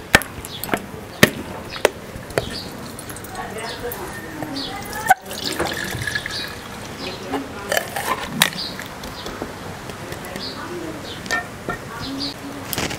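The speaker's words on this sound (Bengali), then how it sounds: "এখন লতি আর চিংড়ি মাছগুলো ধুয়ে ফেলব" Shrimp and taro stolons being rinsed in water for a dish cooked in banana leaf with coconut, with splashing and sloshing, clattering knocks and sharp taps, some sounds close and loud, and occasional voice sounds in the background.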